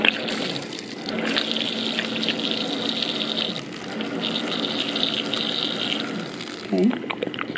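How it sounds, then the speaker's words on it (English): Hot water running and splashing steadily into an instant noodle bowl, a continuous hissing gush lasting several seconds, then a brief clatter near the end. "I'm gonna put hot water in here first"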